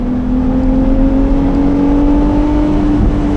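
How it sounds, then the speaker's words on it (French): A Ferrari 296 GTS with a turbocharged V6, heard with the roof open, holding a loud, steady engine drone with a slowly rising pitch and no break or voices. "Et là, c'est un V6, donc c'est un petit peu moins rauque que toit fermé."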